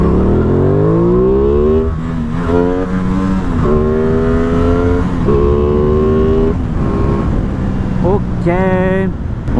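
An Aprilia Tuono 660 motorcycle accelerating hard through repeated gear changes, its engine pitch climbing in loud rising sweeps that drop and climb again, close and dominant, ending in a sharp high rev.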